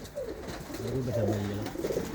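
Racing pigeons cooing inside a netted loft, low soft burbling calls repeating close by, with a faint background murmur.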